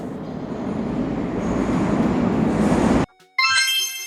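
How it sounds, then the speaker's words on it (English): A commuter train rumbles past loudly with a steady broadband roar, cutting abruptly to near silence before a brief burst of bright ringing tones at the end. "A commuter train carries workers and students daily."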